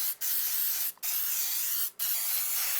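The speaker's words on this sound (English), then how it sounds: "Oh, make sure you spray" A cooking spray can sprays in three long, hissing bursts separated by brief pauses, close and fairly loud.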